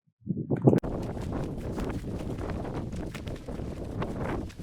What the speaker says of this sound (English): You can see it's in a bit of wind, but a lot less than everywhere else.